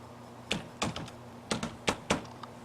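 A student ID number is typed on a computer keyboard at a login screen: a short run of separate, crisp key clicks, close and fairly quiet, with uneven spacing and no talk.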